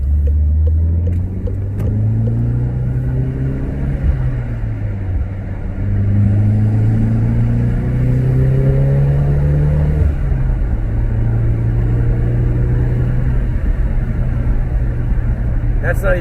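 Volkswagen GTI MkV engine pulling in third gear in race mode, a loud close cabin drone that rises in pitch across gear-held acceleration and settles into steady cruising, with someone talking over it.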